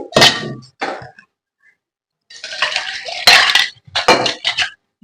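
Ground masala paste goes from a grinder jar into a pot of cauliflower curry: several loud clanks, scrapes and taps of metal jar against pan come in bursts, separated by short silences.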